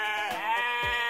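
A single sheep on a ranch gives one close, clear bleat lasting about a second, its wavering voice dropping in pitch at the end.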